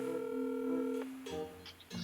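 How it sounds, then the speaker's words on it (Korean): A phone call being placed: steady electronic tones from the handset, a sustained ringback tone that cuts off and then resumes with short beeps, fairly quiet and without talking. "저는 떠오른 사람이 저희 누나한테 한번 전화를 해보겠습니다"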